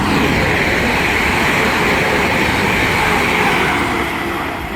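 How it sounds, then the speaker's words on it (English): A London Midland class 350 and a London Overground class 378 electric train pass together on the West Coast Main Line at South Kenton, a loud, steady rumbling rush with faint rail clatter, fading slightly at the end. "a London Midland 350 is engaged in a race with a London Overground 378 and is winning"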